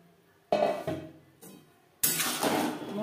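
Eggplant pieces drop into a pan of spiced masala cooked with red chilli powder for a tangra fish curry, giving two loud bursts of close sizzling with a quieter crackle between them.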